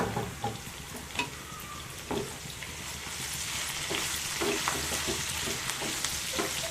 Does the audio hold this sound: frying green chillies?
yes